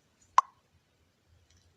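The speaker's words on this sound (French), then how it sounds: "J'enlève le bouchon, je mets ce que je vais mettre dedans et je referme." A single sharp pop sounds as a cork stopper is pulled from a wine bottle with a small opening device, a brief close click in otherwise near silence.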